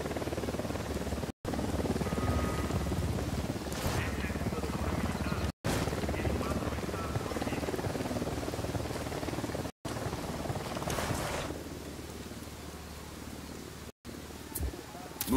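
A helicopter in the video game Ghost Recon Wildlands drones with a steady, rumbling rotor hum throughout, broken by a few brief cuts to silence.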